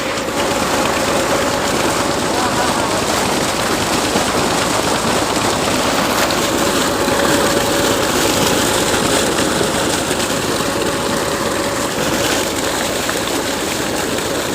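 Water gushes forcefully from a tractor-driven tubewell onto a wheat field in Pakistan, a loud, steady rushing roar throughout with no pauses.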